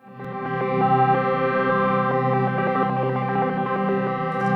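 Roar plugin distortion set to a preamp mode, applied to an ambient soundscape, giving a dense, gritty, harmonically rich drone that swells in and holds steady at a loud level without voices.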